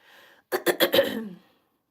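A short burst of four quick coughs from a person recovering from the flu, close and fairly loud, after a faint breath.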